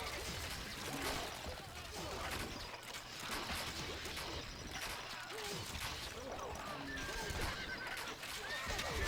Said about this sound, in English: Horse archers are a real pain in this game, obviously because where they're riding through the marsh, arrows don't really hit them